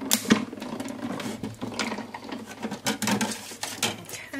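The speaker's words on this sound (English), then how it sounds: "So today I'm just using my Kaiser Craft die cutting machine." A Kaiser Craft die cutting machine running paper through on a crafting table, giving a steady, busy rattling patter with small irregular clicks, fairly close and continuous for a few seconds.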